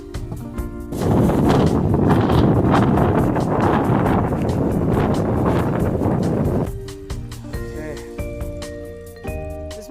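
Strong wind gusting at the edge of a mesa in the South San Juan Wilderness along the Continental Divide Trail in Colorado, a loud broadband roar that starts after a moment and holds for several seconds before easing into quieter background sounds.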